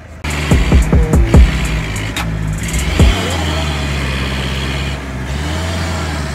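Mahindra Thar, a small-engined 4x2, drives and pushes, its engine a steady loud rumble after a burst of sharp bangs and knocks near the start, with a brief tone and mid-clip clatter.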